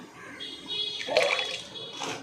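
Water is poured into a cooking pan in a steady splashing stream that swells midway and then tapers, fairly close and moderately loud, with no speech.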